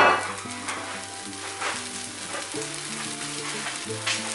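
Goan sausage chilli fry hissing steadily in a pan, a soft continuous sizzle with occasional crackles and faint stirring, no voices.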